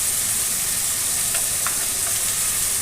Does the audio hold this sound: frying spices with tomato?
yes